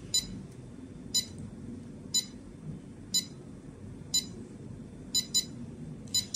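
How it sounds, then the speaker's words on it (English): RC6GS V3 radio transmitter countdown timer beeping: short, clear, high beeps at a steady one-per-second pace, with a quick double beep near the end, over a quiet background hiss. "In the countdown 20 seconds, it beeps every 1 second."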